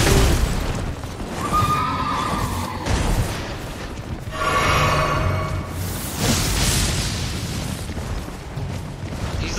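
A horse neighs in the Elden Ring video game, a loud whinny rising out of dense combat noise and rumbling impacts.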